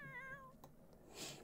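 A single faint cat meow from The Sims 4 video game, a short wavering cry over quiet game background with no talk.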